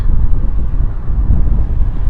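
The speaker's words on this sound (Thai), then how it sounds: "ลมแรงมากค่ะ" Strong wind sweeping across an Australian canola field under dark, overcast skies, a loud, continuous low rumble buffeting the microphone throughout, with no talk.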